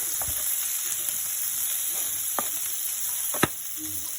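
Food frying in a pan, a steady broad sizzle running throughout, close and fairly loud, with a few sharper crackles and pops breaking through near the end.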